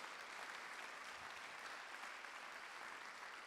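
A church congregation applauds with a dense, even wash of clapping that stays steady and fairly faint throughout, with no clear voices on top.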